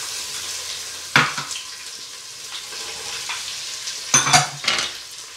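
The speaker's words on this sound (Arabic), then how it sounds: "بعد ما نشوف الزيت تاعي سخن اول حاجة راح نحطوا البصل والزرودية" Chopped onion and carrot sizzle steadily in hot oil in a pot as the base for a Turkish lentil soup, with a few sharp spoon scrapes and clatters breaking through the close, continuous frying hiss.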